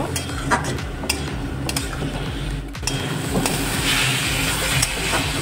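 Beet and carrot curry being sautéed in a pan, with a spatula scraping and stirring in steady repeated strokes over a soft sizzle and clinks of utensil against the pan, close and continuous.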